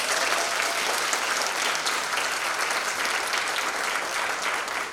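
A high school audience at a junior college night gives strong, continuous applause to visiting college representatives, a bright dense spread of many hands clapping at once that holds steady from start to end.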